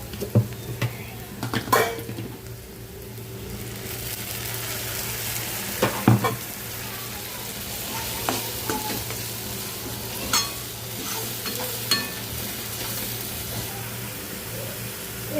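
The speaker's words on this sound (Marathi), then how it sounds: "हे बघा आपण छान मस्त परतून घेतलेलं आहे टोमॅटोची पेस्ट वगैरे तेल सुटेपर्यंत" Tomato paste with turmeric and spices sautéing in oil in a pan, a constant close sizzle broken by repeated spoon scrapes and clanks against the metal pan at a steady pace, with no talking.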